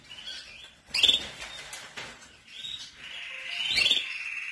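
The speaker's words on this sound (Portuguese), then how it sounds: "Então a gente vai mostrando o canário." Canaries in an aviary with chicks in the nest, bright chirps and short trills in bursts over a steady high twitter, with brief wing flutters, close and clear.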